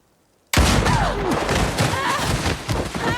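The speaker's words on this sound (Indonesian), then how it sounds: "Zoe sudah turun dan menembak entah kemana hingga membuat kedua orang tuanya tergelompong." A burst of gunfire from a film scene kicks in abruptly after brief silence, loud and dense, with overlapping shots and crackling echoes filling the rest of the moment.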